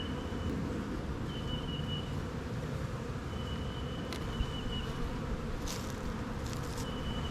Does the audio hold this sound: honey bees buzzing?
yes